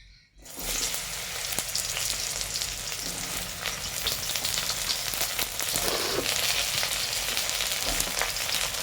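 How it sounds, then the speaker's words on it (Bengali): Pointed gourd (potol) pieces fry in hot mustard oil, a dense, continuous crackling sizzle that starts abruptly and holds at a steady level for several seconds, close by and with no speech. "পটলগুলোকে ভালো করে ভেজে নিচ্ছি"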